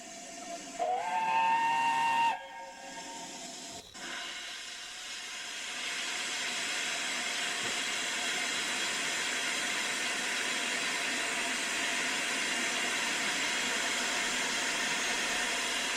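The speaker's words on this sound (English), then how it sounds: "And now we see Sal depart Lineside Station, northbound to McStuffinsville." BR Standard Class 7 Britannia steam locomotive departing a station, opening with a loud steam whistle blast, followed by a steady hiss of steam that swells and holds, with no talk.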